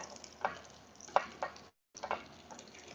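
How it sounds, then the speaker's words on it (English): Pork belly, prawn and fish cake stir-frying in lard in a hot pan, with a steady sizzle broken by several scraping stirs and a brief pause, close and moderately loud. "first, you want to stir fry the protein ingredients"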